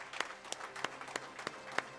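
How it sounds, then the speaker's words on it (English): Applause for an award winner at a global HR excellence awards ceremony, heard as sparse, fairly faint individual claps spaced about a third of a second apart rather than a full ovation. "Please give her a huge round of applause."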